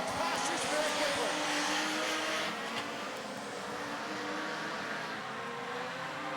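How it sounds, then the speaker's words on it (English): A modified production race car with a broken, noisy exhaust at Gympie Speedway, a harsh engine roar that swells and then settles into a steadier drone, heard from some distance with race commentary over it. "The broken exhaust on Raymond's car, it is noisy"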